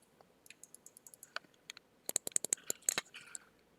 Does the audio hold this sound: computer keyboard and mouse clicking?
yes